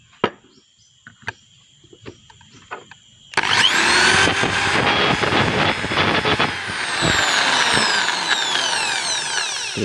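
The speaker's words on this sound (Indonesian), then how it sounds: "kita bor lagi." A power drill bores into parts for a homemade honey suction machine for stingless bees, whirring loudly and steadily after several seconds of quiet tapping and handling noises.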